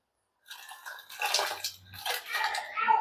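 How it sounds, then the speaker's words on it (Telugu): Soaked sago pearls tipped into boiling water, giving a short close wet splash and bubbling sound after a brief silence, with no voices. "ఇలా మరిగిన వాటిల్లో మనం ఈ నానబెట్టుకున్న సగ్గు బియ్యాన్ని వేసేయాలి"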